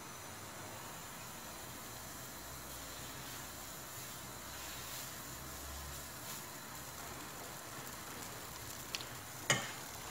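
Semolina beghrir batter cooking on a very hot pan over high heat, giving a faint, steady sizzle and hiss. Near the end come a few small clicks and a sharp tap.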